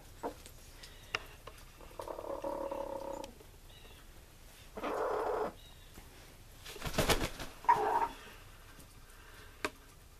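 Orloff chickens give alarm calls at a crow flying overhead, scattered short clucks and longer growling calls in bursts against a quiet outdoor background.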